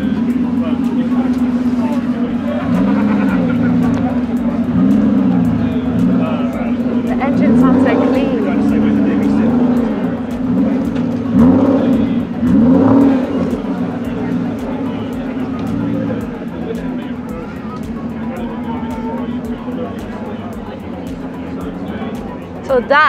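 Classic car at a coffee-and-classics meet, a loud low engine idling and revving up close while people talk over it.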